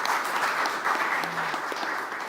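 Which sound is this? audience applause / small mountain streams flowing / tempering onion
audience applause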